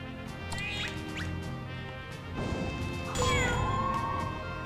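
Cat meows in the fantasy strategy game Grim Grimoire, a few short rising calls over steady game music and effects, with a brighter sustained chime near the end.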